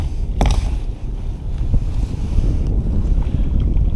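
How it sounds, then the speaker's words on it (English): Strong wind gusting across open water during kayak fishing for largemouth bass near a power plant, a steady broadband roar buffeting the microphone with water lapping against the hull and no talking. "every time I think that the wind's going to die, it picks back up"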